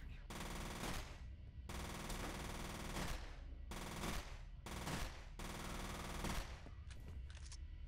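Gunfire in the video game F.E.A.R.: loud, close bursts of automatic fire, several long rattling volleys broken by brief pauses, ending in shorter clipped bursts.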